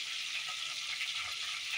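Leaves dropped into hot, well-heated oil for a Marathi chicken chilli gravy give off a steady, bright sizzle, faint but even, with no voices.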